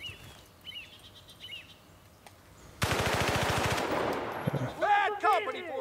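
Heavy machine gun fire erupts in the Battlefield: Bad Company video game, a loud, fast burst of rapid shots that follows quieter ambient bird chirps and gives way to more chirping and game effects.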